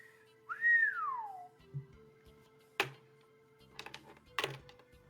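A loud rising-then-falling whistle, voiced by a person imitating a kenku bartender in a tabletop fantasy game, followed by a few scattered knocks and clatters.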